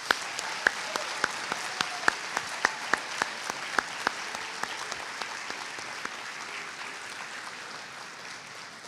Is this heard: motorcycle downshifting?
no